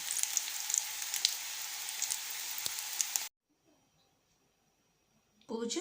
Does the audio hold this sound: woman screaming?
no